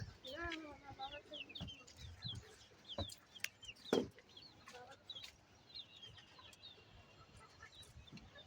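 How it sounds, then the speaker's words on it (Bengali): Several chickens cluck and squawk close by in bursts on a rooftop farm, with a sharp louder cry midway and quieter clucking afterward. "এগুলো মুরগি"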